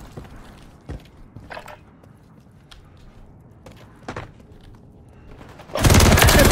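Rapid gunfire from a gun in the video game MW3: a few sparse, quieter shots, then a loud, dense burst of automatic fire close up at the very end.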